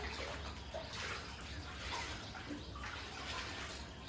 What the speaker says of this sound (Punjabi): ਆਪਣੀਆਂ ਸਾਰੀਆਂ ਕੋਟੀਆਂ ਦਾ ਸਵੈਟਰਾਂ ਦਾ ਐਂ ਪਾਣੀ ਕੱਢ ਲਾਂਗੇ ਹਲਕੇ ਹਲਕੇ